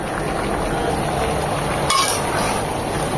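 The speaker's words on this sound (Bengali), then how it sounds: "সব মশলা সহ চিকেনকে খুব ভালোভাবে নেড়ে চেড়ে মিশিয়ে নেব" Chicken being stirred with turmeric, cumin and other spices in a frying pan, a dense continuous sizzle with a spatula scrape near the middle, close and loud, no voices.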